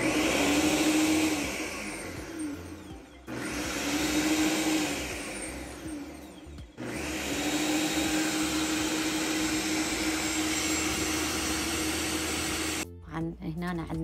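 An electric mixer whirs steadily through orange cake batter made with orange zest and orange juice, running in long continuous bursts with brief pauses, loud and close.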